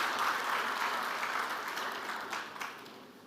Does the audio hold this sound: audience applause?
yes